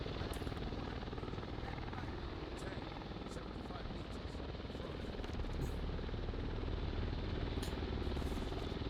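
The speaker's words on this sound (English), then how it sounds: "They chose to bring in an Apache helicopter." Apache attack helicopter in the Arma 3 military game, a continuous dense rotor thrum and engine roar that stays steady and fills the whole stretch, with a voice talking over it at times.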